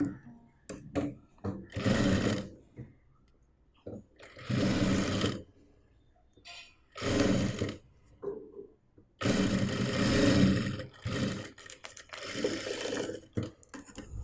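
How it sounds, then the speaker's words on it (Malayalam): A sewing machine stitches a zipper onto a small cloth mobile pouch made from waste fabric, running in several loud bursts of rapid needle chatter separated by short pauses. "സിബ് പൂട്ടി വെച്ചിട്ട് അറ്റം വരെ അങ്ങോട്ട് സ്റ്റിച്ച് ചെയ്ത് കൊടുക്കാം"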